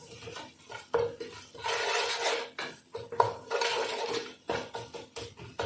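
Marinated chicken drumsticks dropped into a pan of spices, giving bursts of scraping and stirring with clinks of a utensil against the pan, in uneven surges over a few seconds with no talk.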